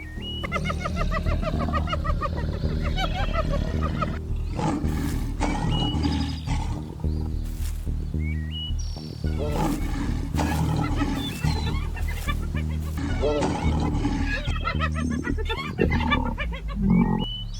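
A lion attacking hyenas on the Serengeti, heard as loud, repeated guttural roars and growls mixed with frantic yelps and cackling cries, continuous and close throughout.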